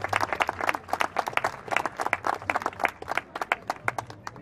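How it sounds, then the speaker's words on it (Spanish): Applause from an audience of around 700 at a charity food fair, with close, uneven clapping from a smallish cluster of hands, loud and busy with fluctuating bursts throughout. "Entonces, un aplauso para todos ustedes."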